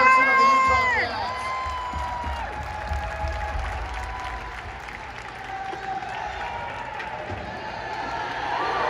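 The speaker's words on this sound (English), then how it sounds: "Ladies and gentlemen, big round of applause for Jordan Clarkson of the Utah Jazz." Arena crowd applauding and cheering as Utah Jazz basketball player Jordan Clarkson is introduced at a Filipino Heritage Night game against the Houston Rockets, a broad roar under an amplified announcer's voice with ringing tones.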